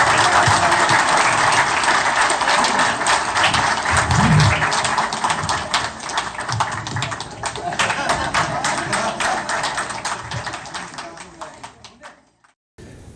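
An audience gives sustained applause for a married couple after an interview at a church ministry program, steady dense clapping that fills nearly the whole stretch before fading out near the end.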